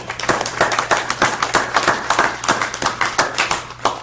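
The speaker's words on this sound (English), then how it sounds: "let's give the developer a round of applause" A small group at a school district board meeting claps for a developer after a unanimous vote, a handful of distinct, fairly close hand claps in uneven rhythm over a low steady room hum.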